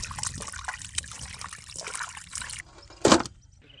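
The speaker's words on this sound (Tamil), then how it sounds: "தண்ணி ஊற்றி நல்லா ஃப்ரெஷ்ஷாக கழுவி எடுத்துக்கிறோம்" Water is poured over raw chicken to wash it, with splashy trickling and handling sounds close by, a pause, then a short louder splash near the end.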